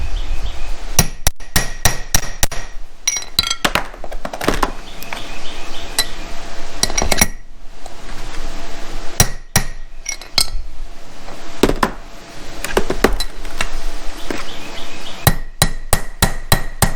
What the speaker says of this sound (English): going to start out with a larger bushing driver so I can get it square